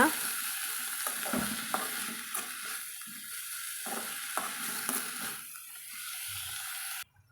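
Palak spinach with salt stirred in a pan for a stir-fry: close, steady frying hiss with repeated scraping spoon strokes at an uneven rhythm, easing off before a sudden cut at the end.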